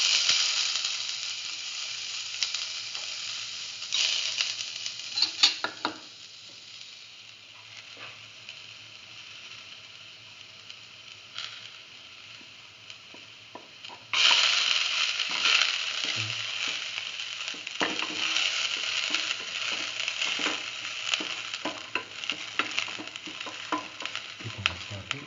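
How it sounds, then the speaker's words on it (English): Garlic sizzles in a pan for a ginger-and-spinach stir fry, a steady bright hiss that quiets for a while and then surges louder, with occasional clicks and scrapes of stirring. "Put in the garlic."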